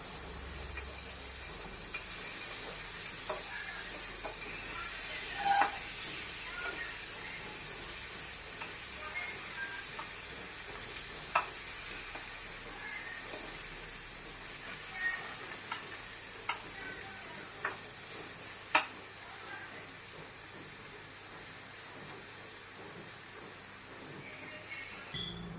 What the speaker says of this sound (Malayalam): അപ്പം മീൻ തിരിച്ചിട്ട് കൊടുക്കാം.